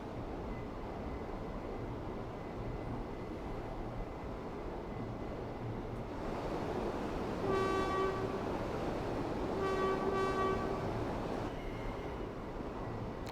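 An electric train on the Edinburgh to Glasgow route in Train Sim World 4 runs with a low, steady rumble and rolling noise, while two short horn-like tones sound partway through.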